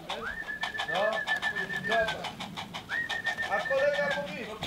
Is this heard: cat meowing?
no